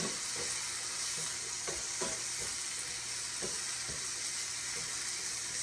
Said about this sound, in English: So the onions is cooking. The tomatoes are turning into like a little paste.